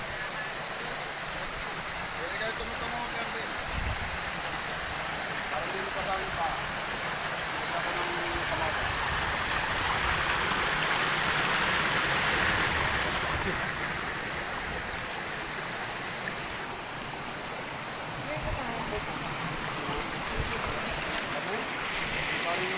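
Steady rushing of a clear mountain stream in Mindoro fills the scene, a continuous broadband wash with faint background murmur and no clear talk.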